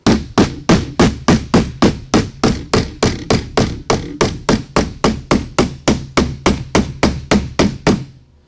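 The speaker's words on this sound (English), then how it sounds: "So whenever I smash the material down into that scallop, it pulls on the aluminum" Steady hammer blows shaping aluminum sheet into a scallop on an aircraft restoration, about two or three strikes per second, loud and close, a long even run of sharp ringing impacts with no talking.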